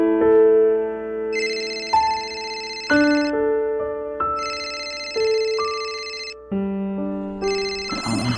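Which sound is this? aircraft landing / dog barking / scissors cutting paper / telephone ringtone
telephone ringtone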